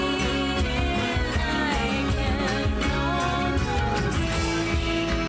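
An improved homemade cello built from hardware store materials plays a dense, continuous passage of bowed notes, loud and close, with gliding pitches and a rich, resonant body and no voices.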